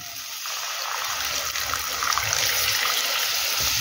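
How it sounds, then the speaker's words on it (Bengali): Soaking water from cashews and poppy seeds pours onto spices in a pan for a Bengali potol korma, a steady, close trickling gush that builds slightly and runs without pause for a few seconds. "এবারে মশলার উপরে দেব কাজু বাদাম আর পোস্ত ধোয়া জলটাকে"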